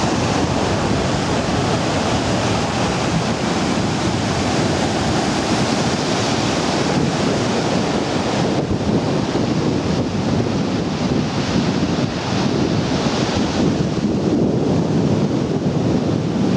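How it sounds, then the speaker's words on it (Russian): Caribbean surf rolls steadily onto a beach in the Dominican Republic, a loud continuous wash of breaking waves with some wind rumble on the microphone and no voices. "Доминикана, пляж на Карибском побережье."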